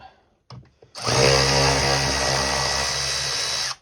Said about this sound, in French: Donc dévisser les trois là, là, celle-là, les trois vis là.